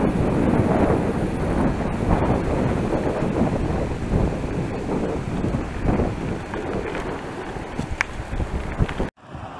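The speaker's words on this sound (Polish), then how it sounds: "bo zrywa się już wiatr" Steady, loud wind roars across a microphone outdoors, buffeting continuously for several seconds before cutting off abruptly at the end.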